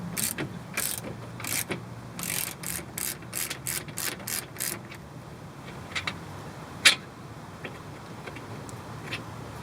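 A hand ratchet on an 18 millimeter bottom shock bolt gives a quick run of close, crisp clicks, then a pause and a few scattered clicks and one sharp knock, all fairly near with no one talking.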